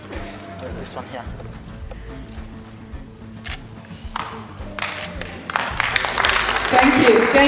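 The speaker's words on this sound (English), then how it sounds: "Let's clap for him nicely." Audience claps for an award winner at a youth-focused event, applause starting scattered and swelling louder toward the end, with someone speaking over it.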